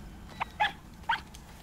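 Creature in the video game Rime giving three short, yappy barks, spaced apart and fairly faint over a low ambient hum.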